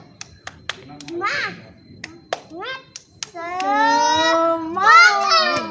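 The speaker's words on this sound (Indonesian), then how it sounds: "Tepuk semangat." A group does a rhythmic spirit clap routine, sharp claps in quick bursts alternating with children's chanting voices, close and lively.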